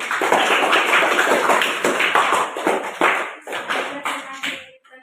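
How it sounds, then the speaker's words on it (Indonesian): A classroom audience applauds after a student presentation, a burst of close hand claps that is dense at first, then thins to scattered claps before stopping. "Kita berikan tepuk tangan lagi dulu supaya semangat."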